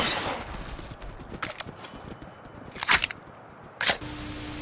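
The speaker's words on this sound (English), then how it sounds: "if you've got the strength to hip fire a Lewis gun, it's going to be fairly controllable because of the weight" A Lewis gun fired in Fallout London, several sharp bursts of gunfire with short gaps between them, close and clear.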